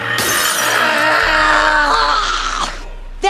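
Animated cartoon crash into a rock: a loud sustained shattering burst with a screaming, groaning tone that holds for about three seconds before cutting off.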